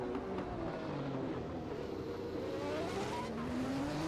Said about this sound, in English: you got that screaming Ferrari in front of you, and you got a screaming Ferrari behind you